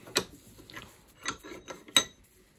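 A repaired ratchet spanner, its pawl spring just refitted, clicks through a few short, crisp ratcheting bursts at close range, spaced irregularly with quiet gaps between them.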